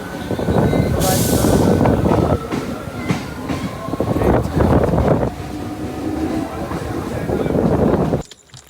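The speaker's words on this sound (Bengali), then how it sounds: "গাইস ট্রেন চলে এসছে, তো চলো ট্রেনে উঠি।" A train moving along the line with loud, close rumble and rattling carriage noise, a brief hiss near the start and steady clatter before it cuts off abruptly; some talk mixes in.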